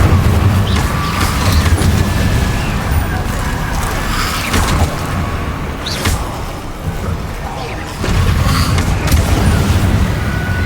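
Spell explosions from the Hogwarts Legacy video game, repeated booming blasts and crackling impacts over a dense, noisy battle backdrop, loud and close, with a voice speaking between them.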